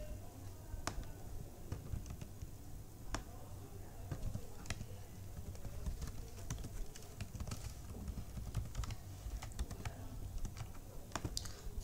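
Keyboard typing of HTML code on a computer, a steady run of light clicking keystrokes with scattered sharper taps, close and moderately quiet over a low background hum.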